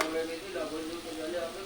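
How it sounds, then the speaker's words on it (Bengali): Palm fruit fritters fry in oil with a soft, continuous sizzle and gentle bubbling, quiet and close, with no talking. "আমি তালের ফুরুলি ভাজতে শুরু করে দিয়েছি।"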